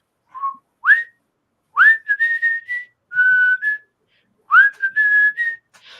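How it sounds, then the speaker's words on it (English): A person whistles a short melodic tune nearby, a series of clear rising and sustained notes in phrases separated by brief pauses, used as a call for a cat at dinner time. "also a tune that I would use to whistle to let a particular cat know that the dinner time"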